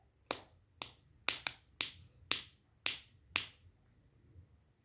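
A pet parrot imitating finger snapping produces eight sharp, crisp snaps at uneven intervals, close and clear in a quiet room with no talking.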